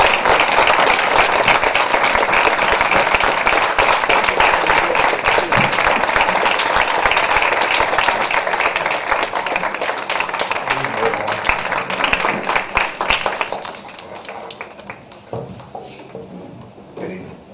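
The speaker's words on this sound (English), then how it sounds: "Let's give him a round of applause" Loud, sustained audience applause at a youth activist panel fills most of the stretch, then fades out, leaving quieter room noise and some talk.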